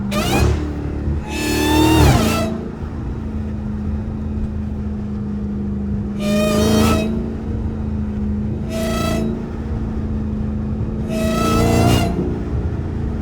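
A supercharged Dodge Hellcat engine revs in three sharp bursts with falling pitch sweeps as it downshifts, a high supercharger whine riding over a steady idle rumble between them.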